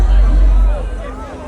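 A dense crowd at the Notting Hill Carnival street festival in London mills around as a loud, close wash of overlapping voices and general hubbub.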